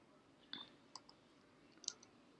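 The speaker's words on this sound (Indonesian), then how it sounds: "Ketik." A few sparse keystrokes on a computer keyboard while entering text into a database, faint and close, with isolated clicks separated by quiet pauses.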